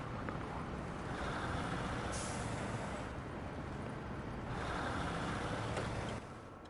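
A heavy truck in a truck-driving video game rumbles with a steady, loud engine drone throughout, broken by a couple of brief hissing bursts like air brakes releasing.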